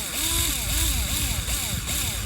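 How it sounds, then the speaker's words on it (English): A power drill bores through the plastic front bumper of a Scion tC, its motor whining steadily and close up in a rising and falling rhythm with no talk. "you can just start to drill through the hole"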